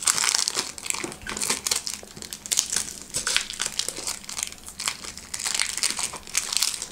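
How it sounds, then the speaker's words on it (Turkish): Cardboard and plastic packaging of an Asus Zenfone 3 Max (ZC520TL) phone box being opened, giving steady close crinkling, crunching and rustling that continues throughout without speech. "Neyse ki kutuyu açtık."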